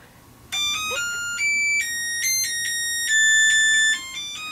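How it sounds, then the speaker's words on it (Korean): A morning wake-up alarm rings loud and close as a chain of bright electronic beeping tones that step between pitches in a melodic pattern, with nothing else over it. "알람 소리와 함께"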